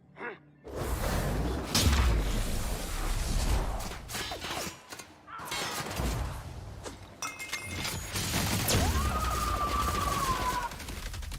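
Bursts of gunfire in The Outer Worlds, shots and whooshing impacts rolling through a loud, dense fight with short pauses between volleys.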